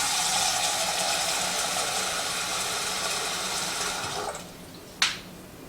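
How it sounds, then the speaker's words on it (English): A kitchen pot filler faucet runs in a steady, fairly quiet hiss for about four seconds, then shuts off, followed by a single sharp click. "we have this pot filler"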